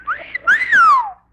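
A single short whistled phrase, a brief note followed by a smooth rising and falling glide, clear and close.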